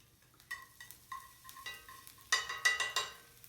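Minced garlic cooks in a pan for ebi chili with soft, quiet sizzling bursts and light stirring scrapes in an irregular rhythm that grow a little louder toward the end.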